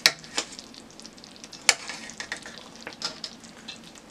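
Pork chops fry in a pan on a medium-low stove just after being flipped, sizzling steadily with sharp clinks of a utensil against the pan and small spatters, all close and without voices.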